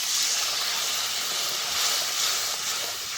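Water poured onto fried spice masala in a pan for a fish curry gives a loud, steady steam hiss that runs unbroken for about three seconds, with no voices over it.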